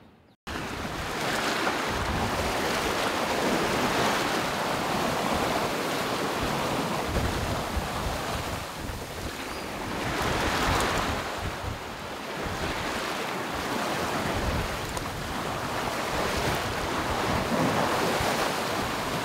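Steady wind and surging waves at sea around a sailboat sailed single-handed toward Istanbul in roughly 10–15 knots of wind, a continuous rushing wash with swelling surges and microphone wind buffeting throughout, no voices.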